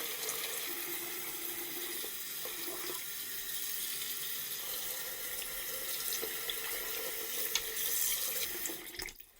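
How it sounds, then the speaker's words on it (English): Water runs steadily from a faucet into a sink, a continuous gentle splashing hiss that cuts off near the end. "We're going to run cool water."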